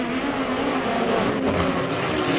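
Midget race cars of a POWRi West Midget League race roar around the dirt oval at Airport Raceway, a loud continuous engine drone with several cars close together and no talk.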